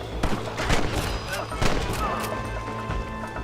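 Gunfire in the video game Red Dead Redemption, several sharp shots cracking in quick bursts over a rumbling game soundscape, with a player talking over it.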